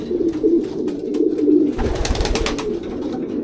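Racing pigeons in a loft coo in low, rolling murmurs, fairly close, with some fluttering and shuffling noise partway through and no speech.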